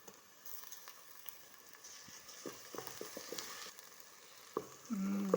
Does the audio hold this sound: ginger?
yes